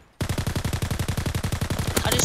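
Rapid automatic gunfire from Call of Duty multiplayer, a fast even burst of roughly twenty shots rattling without a break, loud and close.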